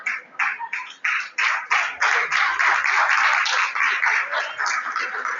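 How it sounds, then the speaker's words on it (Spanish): A church congregation, mostly women, breaks into applause: an uneven patter of hands that begins as scattered claps and builds into dense, steady clapping, close and loud, with a few voices murmuring underneath. "Lo bonito es que las mujeres aplauden y los varones no"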